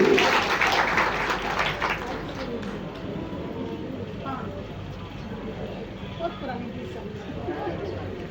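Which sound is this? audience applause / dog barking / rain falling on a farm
audience applause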